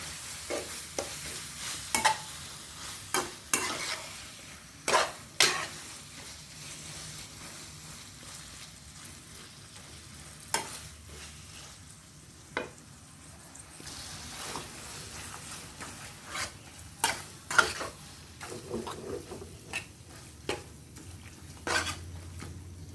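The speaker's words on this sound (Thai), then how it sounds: "ผัดให้เข้ากันดีเลยนะคะ" Clam meat is stir-fried with roasted chili paste in a pan, with repeated loud scrapes and clanks of a spatula against the pan over a soft sizzle, in an uneven rhythm and close by.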